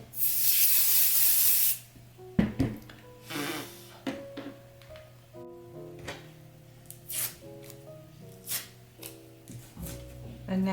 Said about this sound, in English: Spray some temporary spray adhesive on this side.